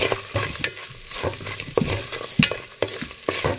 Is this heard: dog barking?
no